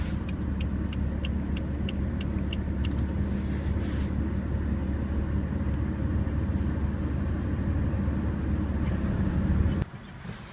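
A BMW car engine running close and loud as a steady low rumble, with faint ticking early on. The sound drops off abruptly near the end.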